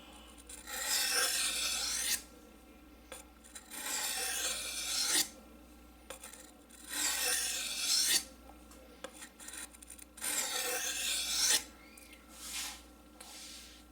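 A knife blade drawn repeatedly across a sharpening stone, four long bursts of gritty scraping separated by short pauses, close and clear with no talking.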